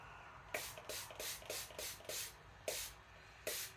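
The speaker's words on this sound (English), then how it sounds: "Now I'm going to give this a spray" Eight quick spray-bottle spritzes, each a short airy hiss with a faint trigger click, in an uneven rhythm with brief pauses between, close by.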